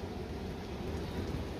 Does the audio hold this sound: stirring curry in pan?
no